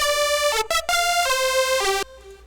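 Bright synth lead with oscillator sync and LFO modulation plays a Mario Kart style melody, a quick run of sustained pitched notes with short gaps, alone and fairly loud.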